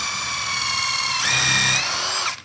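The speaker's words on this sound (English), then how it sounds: "We're going to line up the drill bit" Power drill pre-drilling a hole during furniture pre-assembly, a steady high whine that rises in pitch and load midway before spinning down abruptly, close and alone.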